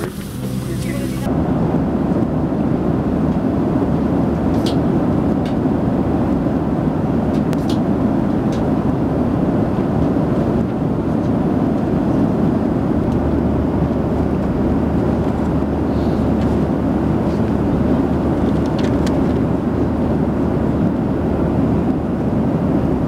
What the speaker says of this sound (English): all passengers are on board the aircraft. We're going to get you moving here in a moment.